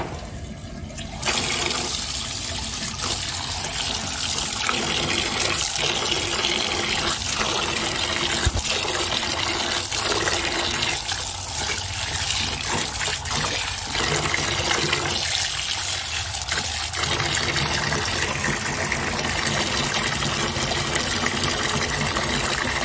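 Running water rinsing used tea leaves, a continuous loud splashing gush with slight changes in texture as the leaves are washed, steady for over twenty seconds.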